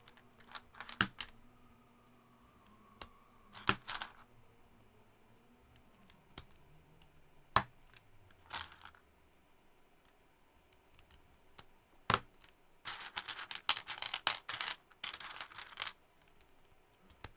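Clacky keystrokes on a custom mechanical keyboard with Cherry-profile keycaps, arriving in scattered single presses and then faster bursts near the end, close and fairly quiet.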